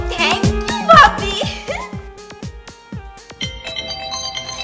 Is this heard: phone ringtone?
yes